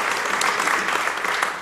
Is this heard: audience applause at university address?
yes